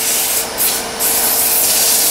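Sandpaper rubbing against a wooden bottle stopper spinning on a lathe, a steady close abrasive hiss that swells and dips briefly before settling into a continuous scratchy whoosh.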